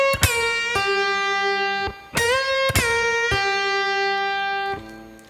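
Sustained electric guitar notes, each plucked sharply: a string bent upward and released, then a quick pull-off to a lower note ringing out, with no talking.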